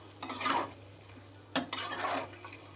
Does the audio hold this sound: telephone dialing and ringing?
no